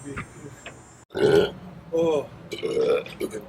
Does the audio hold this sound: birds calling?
no